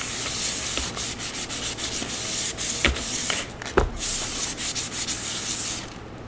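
Steady sanding on a painted chalkboard surface, smoothing out roller texture and debris, a continuous close rubbing hiss with a few sharper strokes, running alone until it stops near the end.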